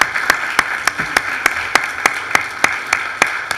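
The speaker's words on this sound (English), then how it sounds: "You can applaud." Audience applause at a Westchester County legislative session proclaiming Hannah Steinberg Day, heard as a steady run of sharp, evenly spaced claps over a soft broadband crowd wash.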